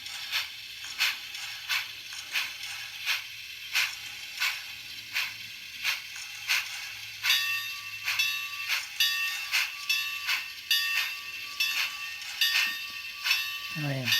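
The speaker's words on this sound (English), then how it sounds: "for a steam engine, this is definitely the best running steam engine I have ever" A small N scale model steam locomotive runs close by, giving regular mechanical clicks and chuffs in a steady rhythm over a quiet electric hum.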